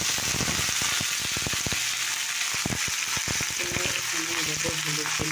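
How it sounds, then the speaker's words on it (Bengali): Chilies frying in a little oil in two woks, a dense, close sizzle with rapid crackling pops and clinks of stirring over a steady hiss, with no talk. "দুটো কড়াইয়ে একটু তেল দিয়ে লঙ্কা দিলাম"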